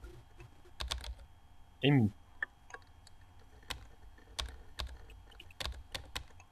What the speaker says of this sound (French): faut que je tape sur le clavier